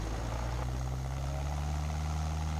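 Cessna 172 Skyhawk piston engine at full takeoff power, a steady low droning hum with a constant propeller tone heard from inside the cabin, no talk.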